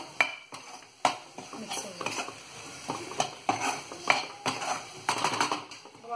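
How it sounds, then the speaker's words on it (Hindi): A spoon stirs a frying masala mixture for mutter paneer in a cooking pan, making repeated sharp metallic scrapes and knocks in a quick irregular rhythm over a light sizzle, close and clear, with no voices. "इसको अच्छे से मिला देंगे, इसको दो मिनट तक चलाते रहें"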